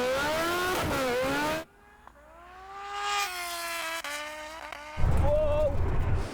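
Drag race launch of a Rimac Nevera against motorcycles including a supercharged Hayabusa, with a rising high-pitched motor whine and revving engine tones building and sweeping, under excited talking voices before and after.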